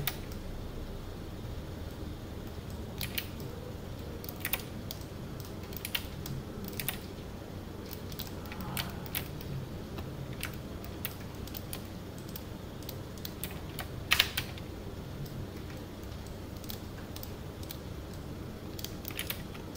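Computer keyboard typing during 3D Max door modeling, including presses of the Shift and R keys: sparse, quiet key clicks scattered irregularly over a low steady room hum, one click sharper near the end, with no voices.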